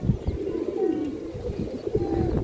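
A pair of Jabra pigeons, Indian high-flyer breed, coo softly and repeatedly in low rolling calls, close by, with faint background rustle.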